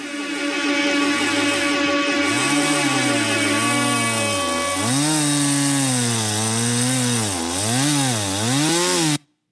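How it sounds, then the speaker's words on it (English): A chainsaw cuts through a log, its engine pitch rising and falling steadily as it bogs down and revs, loud and continuous before stopping abruptly. "So some log sawing"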